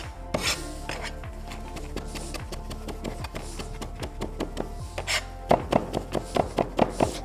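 Fresh green coriander being chopped finely on a board: a steady run of sharp knife knocks, quickening into a brisk, even rhythm toward the end, close and clear with no talk.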